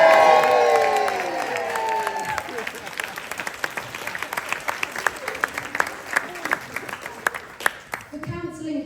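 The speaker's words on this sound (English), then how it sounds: "I think we should all give a big round of applause to my husband." Party guests burst into loud cheering and whoops, then settle into sustained, crisp clapping with distinct individual claps toward the end.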